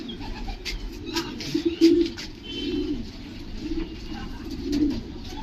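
China bloodline homing pigeons cooing softly in a loft, low repeated murmuring coos with a few faint chirps over steady background noise.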